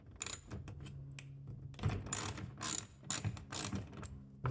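Hand ratchet clicking in short bursts while loosening the door stop bolts on a 2008 Infiniti FX35, a close, dry pawl chatter that stops and starts several times with no talk.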